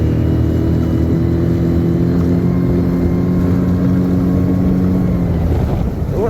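A boat motor drones steadily at close range with a low, even hum and some wind buffeting, staying constant before easing slightly at the end.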